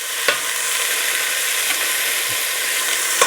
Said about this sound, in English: Want to kind of sear this a little bit.